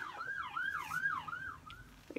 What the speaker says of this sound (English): And there's a siren in the background.